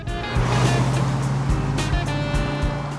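A steady low rumble and hum of road noise inside a moving Toyota Prius on a grainy road surface, constant and fairly loud, with a few faint thumps.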